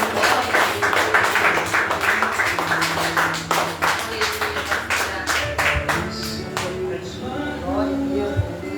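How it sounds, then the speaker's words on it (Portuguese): A church congregation applauds during a worship service, dense sharp clapping filling the first seven seconds and then thinning out, with voices rising and falling underneath. "Dê uma salva de palmas para o Senhor."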